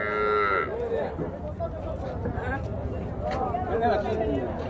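Young milk-drinking calves of a native breed mooing at the Chintamani cattle market in Karnataka, a drawn-out low call up close amid market chatter and people talking nearby.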